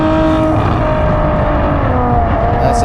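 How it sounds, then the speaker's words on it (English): A Ferrari F12 on an open road gives a loud, continuous engine roar under hard acceleration, with a steady and close tone and no talking. "So we're out on the road in the F12."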